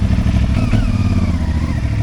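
A motorcycle engine rumbles loudly and steadily nearby, with a rough low throb and slight rises in revs, continuous and alone with no talking.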